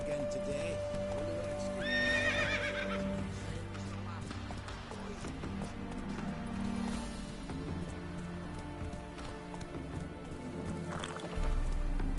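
Roach, Geralt's horse in The Witcher 3, whinnies early on and then gallops with steady clip-clop hoofbeats, over game ambience and a voice.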